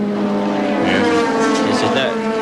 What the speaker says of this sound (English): Bob Gill in the Mustang